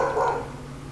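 A single short, loud bark from an abandoned dog at an animal shelter, heard close with nothing else around it.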